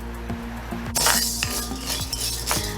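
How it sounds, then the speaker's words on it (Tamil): Toor dal dry-roasting in a hot pan, with light clinks and scrapes of a utensil stirring the lentils over a steady background hiss, no talk. "இப்போ ஃபர்ஸ்ட்டு இந்த துவரம்பருப்பை வறுத்துக்க போகிறேன்."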